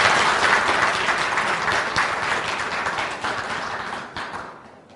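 Loud, dense applause from an audience fills a forum launch ceremony, holding steady before tapering and fading out near the end.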